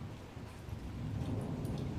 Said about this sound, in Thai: ฟ้าร้องดังดัง